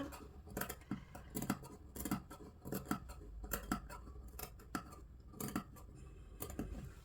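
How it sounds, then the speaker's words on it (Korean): Sewing scissors cut notches into the seam allowance of dress fabric, giving about a dozen crisp, close snips in an uneven rhythm with brief gaps between the cuts. "가위밥을 둬서"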